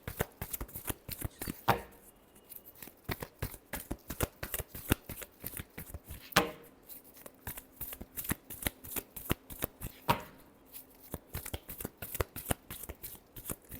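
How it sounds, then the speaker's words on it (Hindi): Tarot cards being shuffled by hand, close and crisp, in fast repeated riffles and taps with a few louder bridging snaps, continuing rhythmically throughout with no talking. "last shuffle"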